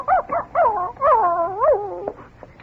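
Dog in a radio drama made to 'talk' on command: a run of close, clear whining yips and yowling howls that rise and fall in pitch over about two seconds.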